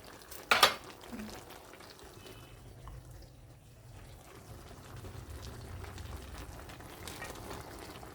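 Sweet potato simmering with moringa flowers in a pan, a soft steady bubbling and stirring texture running throughout, with a sharp clink near the start and low kitchen rumble underneath.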